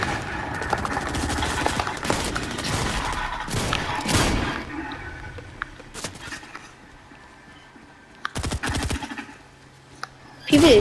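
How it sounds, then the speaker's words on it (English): Rapid bursts of video game gunfire crackle in dense volleys through the first half, then thin to scattered single shots and a short final burst, with the player talking over the action. "He's trying to shoot me, guys."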